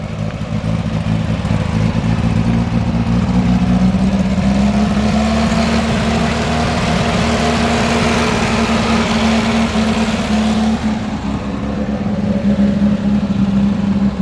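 A 1970-71 VW Baja Bug's air-cooled engine runs with a loud, steady rumbling drone and some clatter, its pitch shifting slightly as it revs under load, heard close with no talking.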